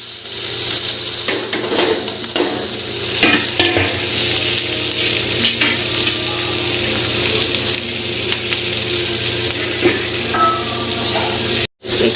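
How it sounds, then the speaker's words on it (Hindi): Cumin, onion and chilli spit and sizzle hard in hot oil in a wok as a dal tempering is stirred, loud and continuous with scraping and clatter throughout, then a brief dropout near the end. "अब बीच कढ़ाई में मैं दाल बघार हूँ तो दाल पर मैं सबसे पहले डालता हूँ जीरा, डालबो प्याज मिर्चा"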